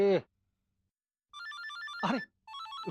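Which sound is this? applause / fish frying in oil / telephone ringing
telephone ringing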